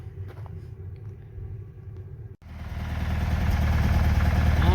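Classic VW Beetle engine, slightly misfiring on a road trip, rumbling steadily and building louder after a brief dip, with a continuous low drone throughout and no voices.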